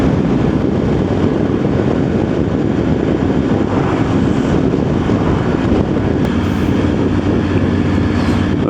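Steady, loud wind buffeting on a motorcycle ride through the Brienz area, a continuous broadband roar without pause that fully masks any engine detail.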